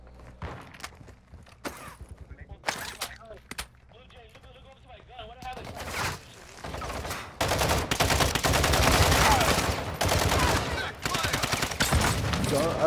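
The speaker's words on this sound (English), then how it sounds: "Oh, this shotgun sucks." Gunfire in a video game, where a shotgun is in use: sharp, loud shots in bursts that end in a dense, continuous stretch of firing, with brief talk mixed in.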